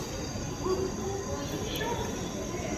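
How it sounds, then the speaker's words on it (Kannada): An orange Vande Bharat train runs past as a steady, moderately distant rumble and rail hum that stays fairly even throughout, with no distinct approach or fade. "ಒಂದೇ ಭಾರತ್ ಟ್ರೈನು ಆರೆಂಜ್ ಕಲರ್ದು"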